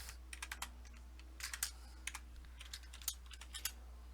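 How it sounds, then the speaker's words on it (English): Fingers tap numbers into a calculator in quick, irregular bursts of light clicks, quiet and close over a steady low electrical hum. "Throw that in the calculator."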